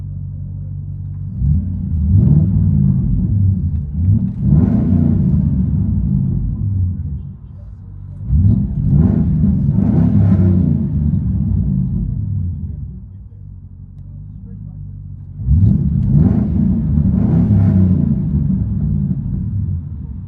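Inside a 2008 Ford Crown Victoria with a 4.6L V8 and true dual straight pipes, the engine's deep loud rumble swells in repeated revs and settles back to idle, with a voice talking over it.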